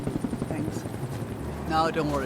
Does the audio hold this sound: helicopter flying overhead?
yes